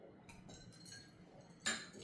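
Glasses clink together in a celebratory toast, one bright chime near the end over a quiet, murmuring room.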